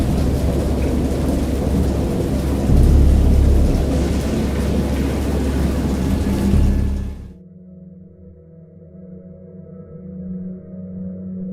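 Video game thunder in Dagon rumbles deeply over steady pouring rain, then cuts off abruptly into near silence with only a faint low hum.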